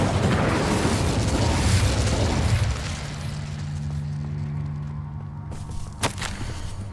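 An Incendio fire spell bursts in Hogwarts Legacy with a loud, rushing blast that fills the first few seconds, then settles into a lower rumbling tail, with a sharp crackle near the end.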